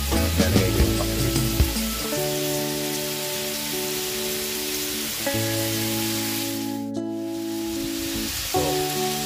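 Chicken and vegetables for pakbet sauté in a pan, giving a dense, continuous sizzle and crackle, heard up close under steady tonal background music, with a brief dip near the end.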